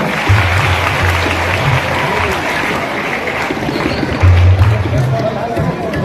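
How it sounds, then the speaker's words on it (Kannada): A crowd at a birthday-celebration program for guests and children breaks into applause, a dense, loud patter of clapping that swells near the end, with murmurs of voices and a low hum underneath. "ಬರಲಿ ಜೋರಾಗಿ ಚಪ್ಪಾಳೆ ಎಲ್ಲ ಅತಿಥಿಗಣರಿಗೆ ಮತ್ತು ಮಕ್ಕಳಿಗೋಸ್ಕರ"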